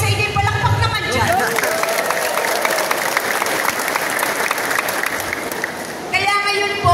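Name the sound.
applause from the audience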